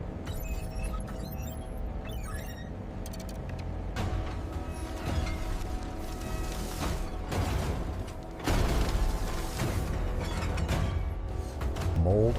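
An industrial injection mold in laptop-casing production opens after molding a shell from recycled material. Clanks, creaks and ratcheting mechanical noise run over a continuous factory rumble, growing louder partway through.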